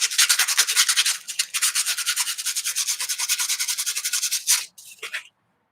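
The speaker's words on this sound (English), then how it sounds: "Sand these up." Small engine lock pieces being sanded give a rapid, close scratchy rubbing in quick regular strokes, pausing once and ending with a few short final rubs.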